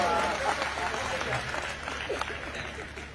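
Audience at a Hindi comedy and satire stage show breaking into fairly light applause, a brief burst of clapping with crowd murmur beneath a speaker's voice.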